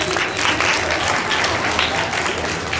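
An audience claps together at a school award and result day ceremony, a dense, even burst of many hands that is loud and close and continues without a break.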